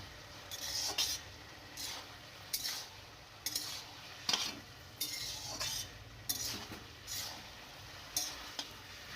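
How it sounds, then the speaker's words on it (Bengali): Winter vegetables with salt and turmeric are stirred in a pot, with repeated rhythmic bursts of spoon scraping and clinking against the metal over a faint sizzle, fairly quiet and close. "তারপর আবার নেড়ে নিচ্ছি"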